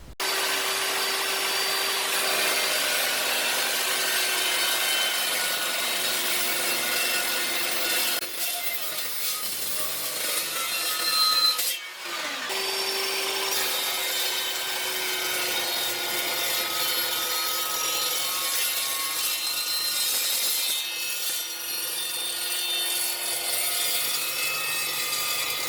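An Evolution 15-inch steel chop saw cutting through metal, a loud continuous abrasive whine that drops briefly near the middle before resuming steadily to the end.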